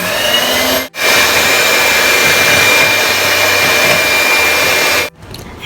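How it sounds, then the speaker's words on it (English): Ghee and sugar are beaten until creamy with an electric mixer, a loud steady motor whine that cuts out briefly near the start and stops near the end. "Beat the sugar and ghee until it gets creamy."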